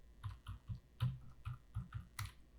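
Number keys on a computer keyboard tapped one by one in a quick, even rhythm, about a dozen crisp close clicks at low volume.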